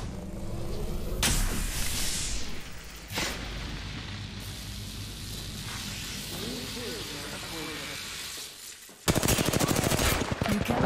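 Rapid gunfire in an Apex Legends match, with sustained automatic bursts and a loud close rattle near the end, mixed with game effects and a player talking throughout.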